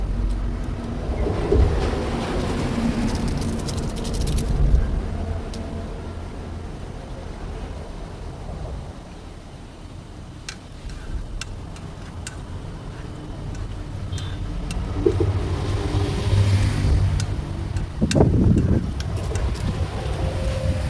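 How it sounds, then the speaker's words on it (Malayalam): Strong wind buffets and rumbles across the microphone in long gusts, with faint water or surf-like wash underneath. "നല്ല കാറ്റുണ്ട്, നല്ല കാറ്റുണ്ട്."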